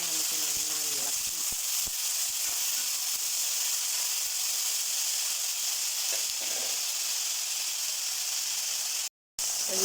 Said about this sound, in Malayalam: വെജിറ്റബിൾ കൂട്ട് ഇട്ട് കൊടുക്കാം. അതിനെ നമുക്ക് നന്നായി ഇളക്കി